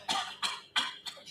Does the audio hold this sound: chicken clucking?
no